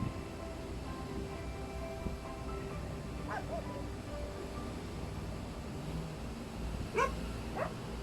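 Rescued shelter dog making a few thin, rising whimpers and yips, mostly near the end, fairly faint over a low indoor background murmur.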